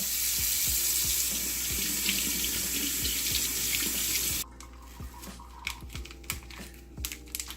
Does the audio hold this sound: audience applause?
no